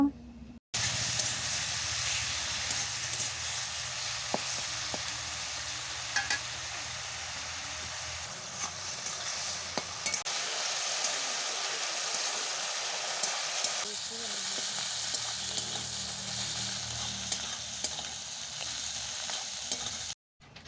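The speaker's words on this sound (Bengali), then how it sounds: "পাঁচ থেকে 6 মিনিট সময় নিয়ে আমি মাশরুম ভেজে নিয়েছি" Mushrooms fry in a pan with salt and turmeric, a steady close sizzle and hiss lasting about twenty seconds, with occasional stirring scrapes and no voices.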